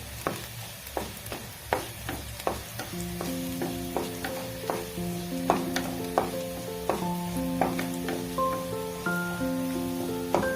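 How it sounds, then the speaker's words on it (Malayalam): Onions sizzle steadily in a hot pan for a Kerala banana stem and lentil curry, with a spoon scraping and stirring in repeated sharp strokes over the continuous close frying hiss. "ഉള്ളി ഇവിടെ മൂത്ത് വരുന്നുണ്ട്."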